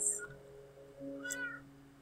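Cats meowing in the video game Minecraft, a few short game-sound meows close up, with no talking over them.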